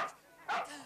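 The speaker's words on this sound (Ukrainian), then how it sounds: "Хай пес його загризе" A dog gives two short barks in a medieval adventure-film street scene, the second louder and nearer, with raised voices around it.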